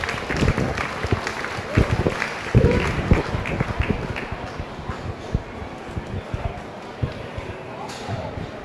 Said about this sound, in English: Give them another nice round of applause